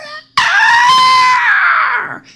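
A loud, sustained shriek made by a human voice imitating a flying creature's screech, rising sharply, holding for nearly two seconds, then trailing off.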